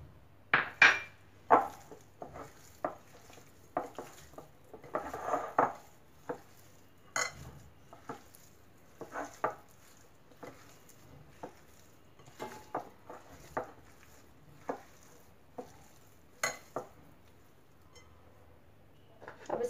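Roasted garam masala being stirred into fish tava tikka in a pan: repeated close clinks and scrapes of a utensil against metal, irregular but steady, with a faint sizzle underneath and no talking.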